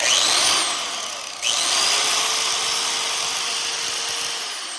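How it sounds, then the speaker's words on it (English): A power grinder spins up with a sharp start, then runs with a steady, high-pitched whine and rough hum before beginning to wind down. "Let's fire up this grinder."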